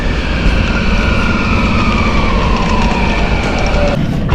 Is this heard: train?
yes